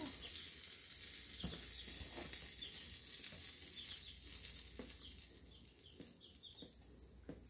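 Pancakes frying on a griddle at home give off a faint, continuous sizzle with occasional small clicks and pops, steady and low with no voices.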